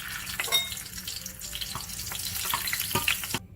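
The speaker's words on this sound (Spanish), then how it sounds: "ahora vamos a dorar lo que es nuestra cebolla y nuestros ajos" Onion and garlic frying in a pan after toasted chiles, a soft crackling sizzle with scattered pops and stirring scrapes, fairly quiet and close, no one speaking.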